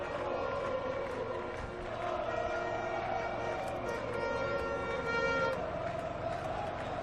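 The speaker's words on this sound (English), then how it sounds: "Listen to the crowd." Roar of a large crowd at the Qatar MotoGP night race, a continuous dense wash of cheering and shouting that holds steady throughout, with faint horn-like tones mixed in.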